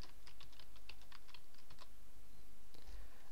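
Keystrokes on a computer keyboard, typed quickly in short bursts to enter a title for a WordPress widget, a steady clicking close up and alone over faint room hiss.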